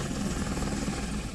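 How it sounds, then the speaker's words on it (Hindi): Navy aircraft and helicopters fly past during the induction of INS Vikrant, a dense, loud, steady engine and rotor roar with a low throbbing pulse, continuous through the brief moment without any voices. "नौसेना के विमानों और हेलीकॉप्टर्स ने फ्लाई पास किया।"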